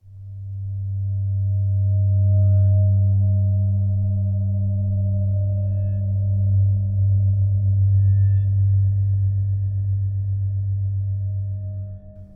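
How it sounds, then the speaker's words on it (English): Low drone from the Omnisphere synthesizer by Spectrasonics using the Backwards Magnetic Fields patch, a deep sustained hum that swells in and holds steady with faint high tones drifting above, with no voices. "this low drone comes from a synthesizer called Omnisphere made by Spectrasonics"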